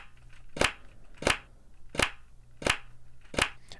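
Layered clap samples stacked into a flam, five sharp slappy hits spaced evenly about two-thirds of a second apart over a faint low hum.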